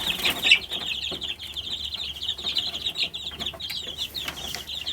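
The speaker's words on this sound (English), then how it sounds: "But I'll show you the chicks." Easter egger mix chicks peep almost without pause in a brooder made from a converted hutch under a heat lamp. A close, steady chorus of high chirps overlaps throughout.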